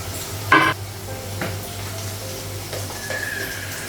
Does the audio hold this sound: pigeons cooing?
no